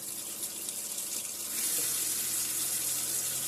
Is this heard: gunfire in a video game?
no